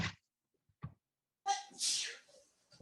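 A single sharp sneeze with a quick breathy intake before it, close and clear, followed by quiet murmurs.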